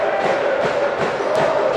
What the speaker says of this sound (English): the Shirley crowd starting to come to life now